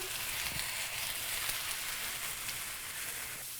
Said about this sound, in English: So let's just sit back, relax, and watch mushrooms cook.